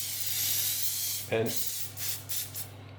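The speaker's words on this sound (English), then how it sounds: "So starting off, I want to spray this baking tray" A continuous hiss of olive oil sprayed onto a baking tray lasts just over a second, followed by a single spoken word and a few shorter, fainter hissing puffs.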